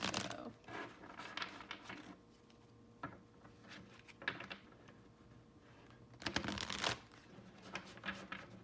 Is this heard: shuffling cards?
yes